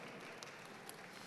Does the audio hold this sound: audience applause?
yes